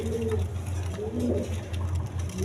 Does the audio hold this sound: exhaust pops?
no